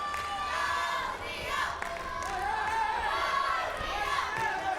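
A crowd cheers and shouts at a women's 50 kg freestyle wrestling bronze-medal bout with a Romanian wrestler on the mat, making a continuous roar with rising yells throughout.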